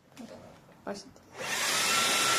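A Shark Detect Clean&Empty cordless stick vacuum starts up partway through and then runs steadily with a loud, even whir, after a few soft handling knocks.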